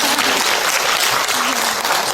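A film festival audience at a Busan screening Q&A breaks into dense, continuous applause, loud and close, sustained evenly throughout with no talking over it.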